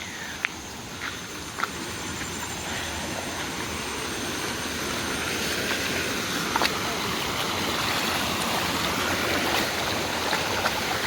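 Small forest stream flowing during rain, a steady, fairly loud rushing wash with occasional faint clicks and ticks on top.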